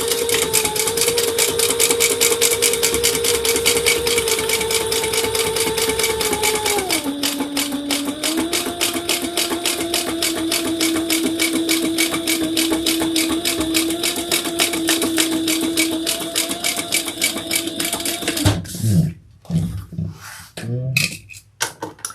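A sewing machine top-stitches the lining piece of a crossbody bag with Tex 80 variegated thread: a continuous motor whir with a steady hum that drops in pitch partway, running about eighteen seconds before stopping abruptly amid a few clicks.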